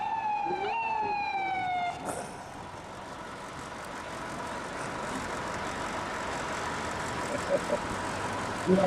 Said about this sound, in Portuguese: Ah, é a polícia.